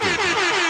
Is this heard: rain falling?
no